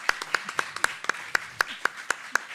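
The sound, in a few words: applause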